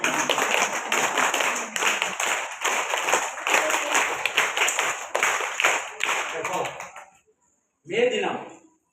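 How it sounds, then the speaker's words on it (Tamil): A group of children clapping their hands at a May Day school gathering, a fast dense patter of many claps sustained for about seven seconds before stopping, followed by a voice speaking. "எல்லாரும் ஒரு முதல்ல கை தட்டுதலோட ஆரம்பிங்க"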